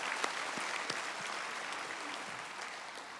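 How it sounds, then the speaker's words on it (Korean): Audience applause at a senior missions conference church gathering: a steady, fairly quiet patter of many hands clapping together, with a few sharper claps standing out, continuing alone for a few seconds. "우리 한 번 더 박수하세요."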